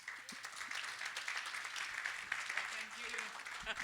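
An audience applauds at an investment forum, a dense, even wash of clapping throughout, moderately loud, with faint voices underneath.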